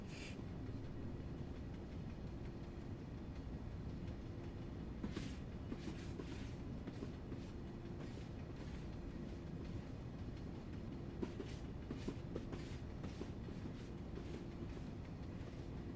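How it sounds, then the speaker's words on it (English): An intercity train passes on the Rosenheim–Salzburg line in Train Sim World 4, a steady low rolling rumble with faint rhythmic clicks over sixteen seconds, fairly quiet and with no talk. "There's the intercity train here,"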